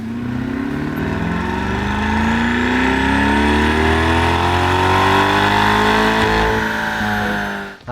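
A C8 Corvette fitted with a Halltech intake and Attack Blue air filter revs up in one long, loud, rising sweep, its engine note climbing steadily before dropping off abruptly at the end.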